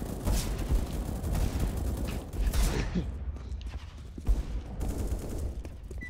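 Dense bursts of video game gunfire crackle through most of the stretch, rapid and loud, easing off toward the end with a few scattered shots.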